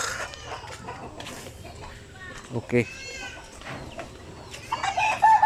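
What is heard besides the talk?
Black Australorp and Basilan native cross chickens clucking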